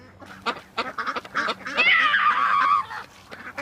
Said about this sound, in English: some of the cousins wanted to go feed the ducks.